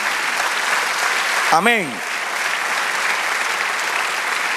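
Church congregation applauding during a Spanish-language sermon, steady massed clapping throughout, broken briefly by one voice calling out.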